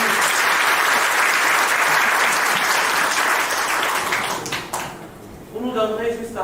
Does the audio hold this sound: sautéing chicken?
no